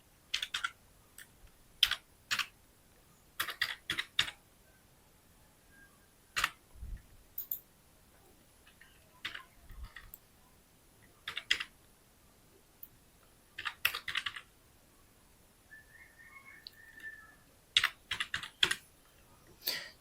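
A PAN card number is typed on a computer keyboard in short, scattered bursts of crisp clicks separated by quiet pauses, close and fairly soft.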